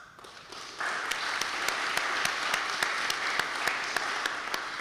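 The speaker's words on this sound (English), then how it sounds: "a huge round of applause from them right here" Audience applause at the CEOAI 2026 opening ceremony, held by UBB and focused on artificial intelligence. Dense clapping swells after a brief quieter start, then holds steady and full with sharp individual claps standing out, and no talking is heard.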